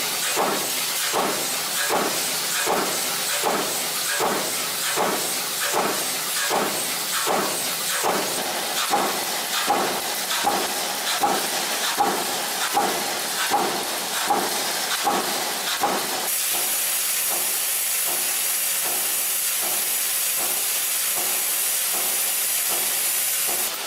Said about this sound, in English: The double-action cupping press is used to form the cups produced by the blanking and cupping press into their final shape.